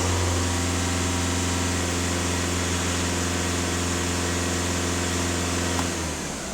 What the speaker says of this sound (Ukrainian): двигунчик теж по-другому працює після заміни мембрани